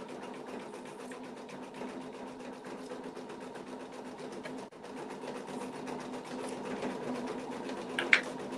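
Embroidery machine sewing a small placement stitch for a flower centre, a quiet, fast, even mechanical chatter running continuously, with a brief dip midway and a sharp click near the end.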